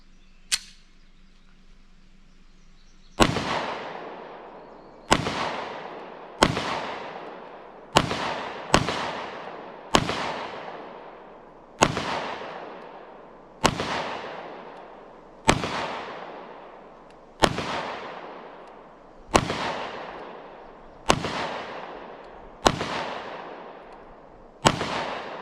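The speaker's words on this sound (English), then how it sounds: "we're going to go ahead and put some more rounds through this pistol today" A Taurus G3 pistol fires about fifteen sharp, loud shots outdoors during a torture test, spaced roughly one to two seconds apart, each crack trailing off in a brief echo, with no talking.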